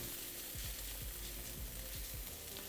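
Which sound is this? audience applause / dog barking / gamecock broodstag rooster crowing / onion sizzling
onion sizzling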